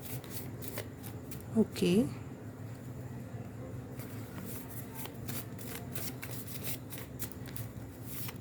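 Handmade tarot cards shuffled by hand, a continuous rapid riffling flutter close by, with someone speaking briefly near the start over the shuffling.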